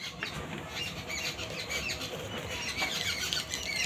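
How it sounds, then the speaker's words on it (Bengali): Wings flap repeatedly at close range among a busy scatter of bird squawks and rustling, a continuous fluttering commotion throughout. "দেখো পাখিগুলো এসেছে সব ভুজিয়া খাবে বলে"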